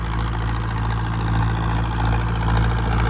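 A John Deere 5310 tractor fitted with a turbocharged JCB engine runs steadily nearby, a loud, even low-pitched idle drone with no talking.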